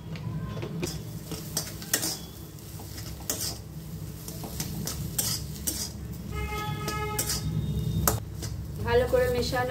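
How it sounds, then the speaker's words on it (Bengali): A spoon stirs fried potatoes with salt in a pan. Scraping strokes and sharp metallic clinks repeat irregularly over a soft background sizzle, with faint voices now and then. "ভালো করে মেশানো হয়ে গেছে লবণ"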